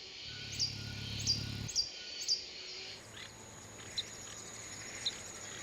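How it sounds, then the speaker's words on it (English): An Ecuadorian long-billed hermit gives a series of short, sharp chirps, about six spaced notes over a few seconds, clear above a soft insect-and-forest background hum. "the insistent chirping of this Ecuadorian long-billed hermit"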